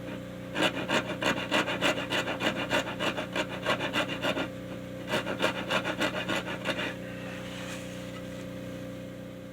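Hand tool rasping along a wooden guitar neck joint, two runs of rhythmic back-and-forth strokes, close and fairly loud, then a quieter pause with a low steady hum underneath.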